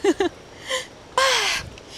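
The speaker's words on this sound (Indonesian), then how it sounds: "Aku bisa denger jelas banget di sini ada suara burung." Crows caw near NungNung waterfall in Bali, a few sharp harsh calls followed by a longer, louder drawn-out caw with a falling tone, fairly close over faint background noise.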